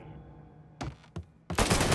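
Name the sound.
gunfire in the video game Mafia 3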